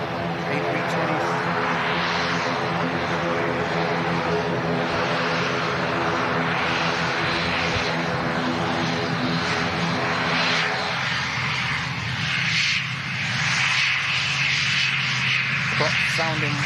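Aircraft engines roar steadily at Manchester Airport, a loud, continuous close drone with layered tones that shifts slightly in character partway through as the sound changes.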